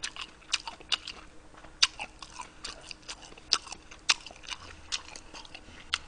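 Close, crisp crunching bites and wet chewing of pork kimbap wraps with radish and wasabi, a steady run of sharp crunches over quiet mouth sounds, no talking.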